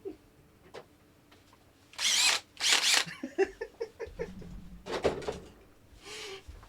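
A DeWalt power drill fires in two short bursts of loud whirring, then a scatter of nearby clicks and handling knocks, and a few more brief whirs follow.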